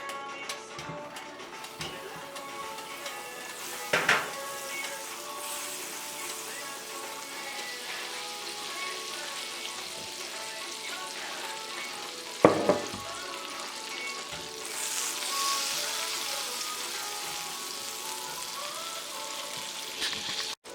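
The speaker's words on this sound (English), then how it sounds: "So now let's drop the butter." Butter sizzling steadily as it melts in a pan for a lemon butter and honey mustard sauce, a continuous close crackle with a couple of brief sharper clinks and a louder hiss surge toward the end.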